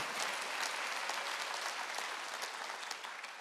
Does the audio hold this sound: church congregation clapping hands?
yes